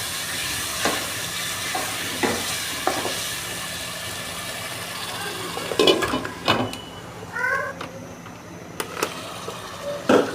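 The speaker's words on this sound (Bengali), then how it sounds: "মাছটা কষাই হয়ে গেছে" Fish fries in a spice masala in a pan. A soft steady sizzle runs underneath while sharp stirring scrapes come and go, with a brief squeaky sound near the end.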